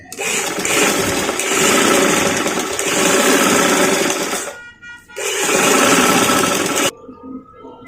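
A sewing machine stitching frock fabric runs in two loud, close bursts of fast, steady mechanical chatter separated by a brief pause, then stops.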